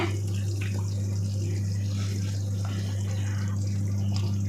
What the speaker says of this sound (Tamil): இப்போ இதில் நான் வந்து மத்தி மீனை நல்லா வாஷ் பண்ணி வச்சுருக்கேன், அதை உள்ளே சேர்த்திக்கிறேன்